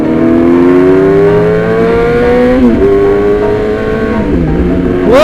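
Modified Yamaha R6 racing motorcycle revving hard, a loud, close, rising high-pitched engine wail that climbs through the gears with short dips at each shift.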